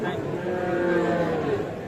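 Sahiwal cattle at a busy Bangladeshi cattle market produce one long, loud, close moo with a low droning tone lasting nearly two seconds, standing alone without talk.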